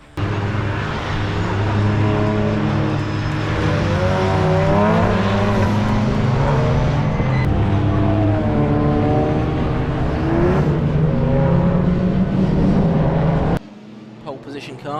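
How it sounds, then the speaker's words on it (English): Cars in the Croft ClubEnduro race, led by a Seat Leon TCR on pole, rev and accelerate off the grid in a loud, continuous engine roar with rising pitch sweeps, and a commentator talks over it. "the red lights, which are on, go out, and the race gets underway"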